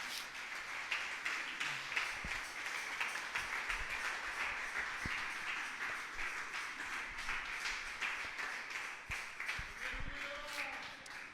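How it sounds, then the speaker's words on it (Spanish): Church congregation clapping, a steady dense round of applause from many hands, moderately faint and continuous with murmured voices beneath. "Dele un fuerte aplauso a Dios."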